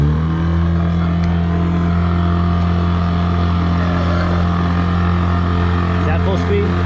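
A 9.9 horsepower Mercury outboard runs at full speed against the current, pushing a boat of about 5,000 pounds. It makes a loud, steady, unbroken engine drone close by, with no change in pitch.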